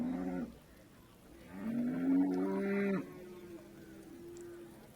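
Cattle low at a livestock market where cows and bulls stand together. Several drawn-out moos sound fairly close, with a longer and louder call in the middle followed by a softer, sustained one.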